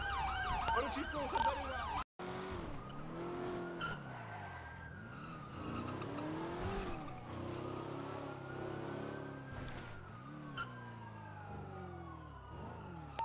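An ambulance siren wails in GTA V, rising and falling repeatedly in a loud, continuous sweep alongside engine and tire noise, after a brief cut near the start.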